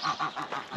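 Close ducks in a hobby poultry coop in Taşköprü, Kastamonu, give a quick run of four or five nasal honking quacks in an even rhythm, loud and with no voices.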